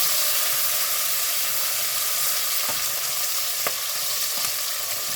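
Chickpeas with onion and chili frying in a pan for an Indian pulav, a steady loud sizzle throughout with a few faint scrapes and clinks of stirring.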